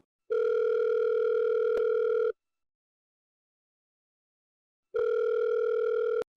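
Ringback tone on an outgoing telephone call: two long, steady electronic tone bursts separated by a few seconds of silence, clear and alone with no voices.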